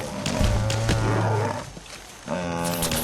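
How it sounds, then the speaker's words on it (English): A large shrimp-like, mantis-headed creature in Fallout 4 lets out a loud, low, drawn-out moan much like a sad cow's moo, in two long groaning calls separated by a short pause. "What a pitiful moan it's got. Sounds like a really sad cow."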